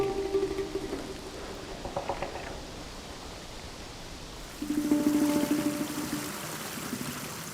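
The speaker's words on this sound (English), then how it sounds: "Waterfalls from above fall directly onto the street." A waterfall pours from above straight onto a cliffside mountain road beside a deep crater drop, a rushing, splashing stream of water that swells louder and nearer in the second half.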